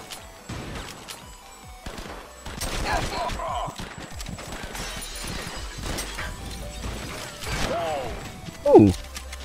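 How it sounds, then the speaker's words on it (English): An exploding fire extinguisher in the action game NOT A HERO gives a sharp burst near the end, after a stretch of rapid gunfire, crashing and clattering effects, with a voice talking through parts of it. "I didn't know fire extinguishers exploded."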